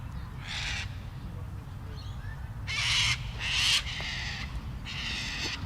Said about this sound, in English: a little flock of cockatoos giving their opinion